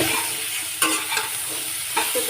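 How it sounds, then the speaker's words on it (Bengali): Soybean chunks and potatoes stir-fried in a pan, a steady close sizzle with a few sharp scraping stirs, no voices. "আজকে দুপুরে সোয়াবিন দিয়ে আলু দিয়ে রান্না করছি।"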